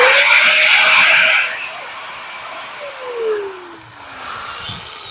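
Industrial power machine for cutting wood, bamboo and iron, a loud whining motor roar that runs steadily for about a second and a half, then spins down while a falling tone fades beneath light background noise.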